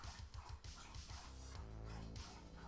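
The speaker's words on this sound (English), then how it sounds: "I am sorry about the dog noises in the background." A dog somewhere in the room gives muffled whines and soft panting sounds that continue throughout a short, fairly quiet stretch in the background.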